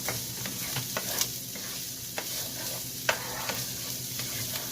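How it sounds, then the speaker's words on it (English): A Vidalia sweet onion fries in a pan with a soft continuous sizzle, while a utensil stirs it in occasional light scraping taps. The sound is near but fairly quiet, with no talk. "So we're cooking the onion until it gets a little bit of color going on there."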